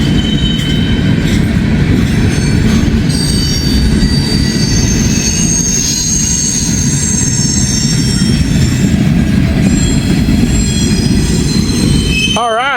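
A freight train with a gondola car passes close by, a loud, sustained rumble of wheels on rail with high, wavering wheel squeals over it, continuous for the whole stretch.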